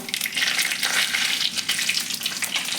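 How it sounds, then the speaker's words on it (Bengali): Whole cumin seeds and a bay leaf crackle in hot oil in a wok, a dense, bright, continuous sizzle with small popping bursts that stays loud and close throughout. "এখন একটু গোটা জিরে ফোড়ন দিয়ে দেবো, আর দিয়ে দেবো একটু তেজপাতা"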